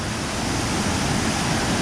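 A waterfall inside Cueva de los Guacharos cave in Jardin, Colombia roars as a dense, steady broadband rush, loud and continuous with no pauses or voices.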